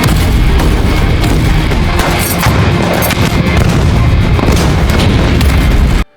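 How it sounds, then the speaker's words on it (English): AGS-17 30mm automatic grenade launcher fires in a sustained, dense barrage, booming blasts overlapping into a continuous loud roar at a ruined building assault, cutting off abruptly at the end. "first using the AGS 1730mm automatic grenade launcher"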